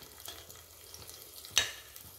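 Ginger garlic paste frying in a pan for a spinach and beans curry, a soft, steady sizzle with faint stirring scrapes and one sharp clack of the utensil near the end, no talk.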